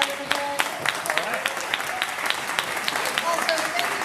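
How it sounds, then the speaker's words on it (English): Audience applause fills the room at a Dallas County Republican Party runoff debate: a steady, moderately loud clatter of many hands, with a voice speaking over it. "Ladies and gentlemen, please give these guys a big round of applause."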